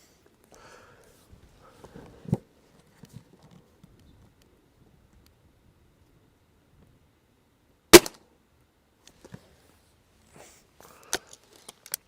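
A Gamo Swarm Viper airgun fires a single sharp, loud crack at an outdoor expo range, followed by a few fainter clicks and knocks amid near silence.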